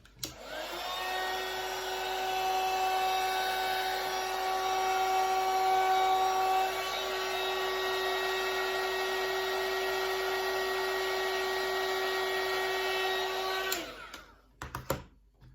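A hot-air heat tool warms a sheet of Worbla thermoplastic, a steady, close whine with a constant tonal hum running for about fourteen seconds before it cuts off, followed by a few faint handling knocks.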